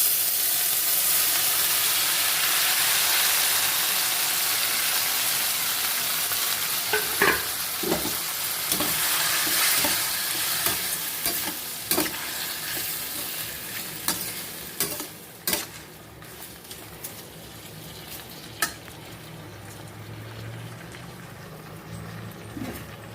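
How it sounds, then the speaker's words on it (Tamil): Chopped tomatoes sizzling in a hot pan with onions, loud frying hiss that settles down as a spoon clinks and scrapes repeatedly while stirring, no talking. "இப்போ நம்ம கட் பண்ணி வச்சுருக்கிற தக்காளி பழத்தை போடுவோம்."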